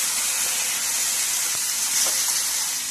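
Water poured onto frying masala in a hot pan for egg thecha bursts into a loud, steady steam hiss and sizzle that fills the whole moment, close up, with no talk.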